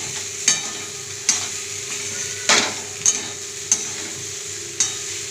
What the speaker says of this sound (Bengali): নেড়ে চেড়ে নিতে হবে।